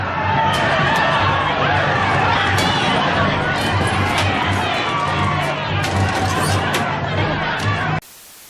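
Loud, dense crowd chatter and shouting filling the space steadily, with overlapping voices and scattered yells, cutting off abruptly at the end.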